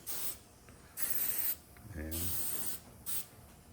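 Several short bursts of hairspray hiss, close by, sprayed onto a motorcycle's throttle-side handlebar to slip a grip on, separated by brief pauses, with a faint mechanical rattle in the middle.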